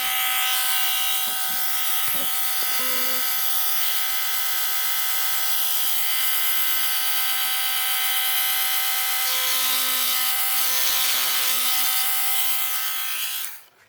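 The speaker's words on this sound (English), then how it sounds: "So we sand it up, do all that fun stuff." A resin mask piece being sanded with a small power sander, a steady, loud high-pitched buzzing whine running continuously close by and cutting off at the end.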